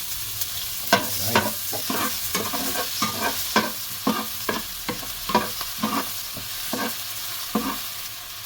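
Garlic sizzling in oil in a pan while a utensil scrapes and stirs it in repeated strokes, the frying hiss steady underneath and one brief spoken word.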